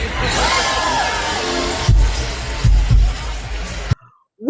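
Concert crowd in Helsinki, Finland cheering and shouting, a loud, steady roar of many voices with whoops and a few bangs, ending abruptly in silence.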